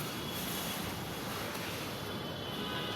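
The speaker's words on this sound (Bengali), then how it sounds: "একটু পরে পরে ঝড়ো বাতাস আসে" Continuous broadband roar of gusty storm wind buffeting the microphone in Dhanmondi, Dhaka, steady and loud for the whole stretch.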